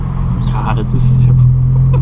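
A 2023 Volkswagen Polo GTS with a sport exhaust accelerates in city traffic, its engine droning low and rising in a strong steady pull heard from inside the cabin, while someone talks over it.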